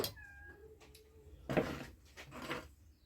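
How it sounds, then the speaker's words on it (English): A cat meows faintly at the start, wanting in from the rain, followed by a couple of soft rustling and door-like knocks in a quiet room. "I hear my cat's returned, looking to get into the house because it's raining outside."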